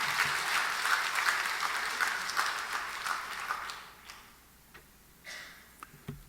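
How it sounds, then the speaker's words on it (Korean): A church congregation applauds warmly for several seconds, the clapping thinning out into a few scattered claps at the end. "하나님께 영광의 박수 돌려드리겠어요"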